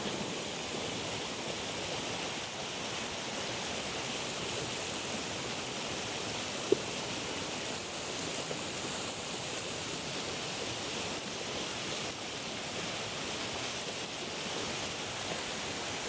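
Steady, broad rushing water fills the scene without pause, a constant even roar of a river flowing below a chili garden, heard close by.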